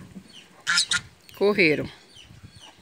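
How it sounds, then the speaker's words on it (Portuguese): Helmeted guineafowl on a farm give harsh, rapid cackling calls in two close bursts, the second longer, with a person speaking briefly nearby. "As galinhas de Angola, quando vê gente, já sabe, né?"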